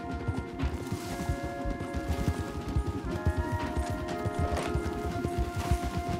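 Horses galloping in Red Dead Redemption 2, a steady rapid drumming of hooves at moderate level, continuous throughout with faint scattered background game sounds.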